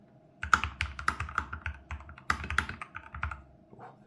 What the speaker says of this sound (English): Let's do a little bit of a type test.